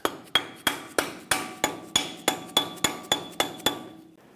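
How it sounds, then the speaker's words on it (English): A rubber mallet taps a front wheel bearing cap into place on a Ford E-350 Super Duty: about thirteen crisp, evenly spaced knocks, close and clear, with no talking. "Take the cap and tap it in. I recommend a rubber mallet so that it doesn't get damaged on the outside."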